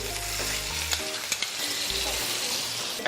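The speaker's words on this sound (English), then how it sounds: "Now we'll add a tablespoon of butter to it" Butter hits a hot pan for a lemon butter sauce and sizzles steadily and loudly, with a few clinks and scrapes of stirring over the continuous frying hiss; no one speaks.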